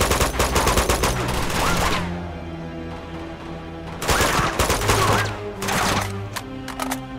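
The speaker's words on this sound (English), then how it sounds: "someone's shooting at me" Bursts of rapid enemy gunfire in the video game Uncharted 2 crackle close and loud in two volleys separated by a quieter lull, with scattered single shots at the end over a low game backdrop.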